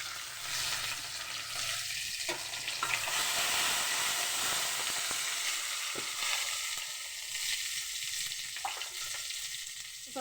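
Chopped onions and tomatoes frying in hot oil with bay leaf and dried red chillies, a loud continuous sizzle with occasional scraping stirs of a spoon through the pan.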